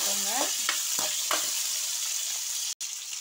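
Tomatoes and curry leaves fry in a pan for a Tamil goat boti gravy, giving a steady close sizzle broken by a few stirring scrapes, then a brief dropout near the end.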